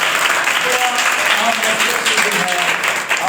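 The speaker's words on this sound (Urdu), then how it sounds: "آئیے خدا کے کلام کے لیے زوردار تالی بجائیں" A church congregation claps loudly together, a dense sustained roar of applause filling the room, with a voice briefly audible within the crowd noise.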